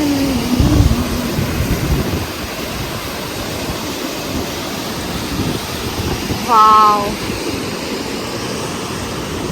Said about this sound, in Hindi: पानी की ये म्यूजिकल साउंड आप लोग भी सुनिए.